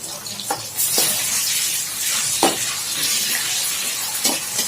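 Chopped onions with ginger garlic paste sizzling in a pan for a capsicum and peas gravy, a steady close hiss broken by several scraping stirs.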